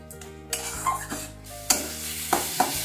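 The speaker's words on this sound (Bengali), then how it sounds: "পোস্ত দানাটা দিয়ে আবার একটু ভালো করে নেড়ে নিচ্ছি" Poppy seeds are stirred into radish chechki in a pan, with soft sizzling and a handful of distinct spatula scrapes and knocks against the pan over a few seconds.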